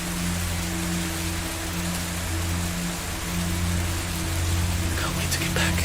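Steady rain hisses evenly throughout, a dense wash of falling drops with a low rumbling drone beneath, and a few brighter splashes near the end.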